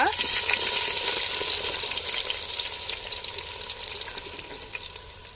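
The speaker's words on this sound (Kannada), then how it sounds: "ನೀರುಳ್ಳಿನ ಪಾಡೋನ್ಗ" Chopped onions hit hot ghee in a pan for a fighter-chicken sukka, bursting into a loud, crackling sizzle that slowly softens and settles over several seconds, with faint stirring in the background.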